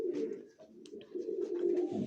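A Mykolaiv pigeon coos softly in a low, throaty rhythm, a few rounded calls close by in a quiet setting in Ukraine's Mykolaiv region.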